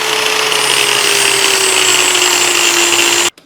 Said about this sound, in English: Just gotta grind a little bit of that draught off of there so it doesn't hook me up while I'm trying to make the pass.